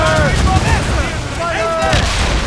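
Naval battle in Assassin's Creed Rogue, with booming ship cannon fire rumbling low and continuous amid crew shouts and voices over the din.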